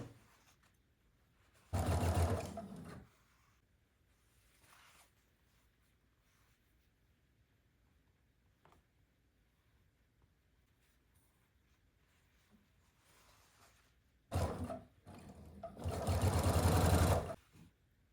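A sewing machine stitches jelly roll fabric strips in short separate bursts, one near the start and two more toward the end, with quiet handling of fabric in the pauses between.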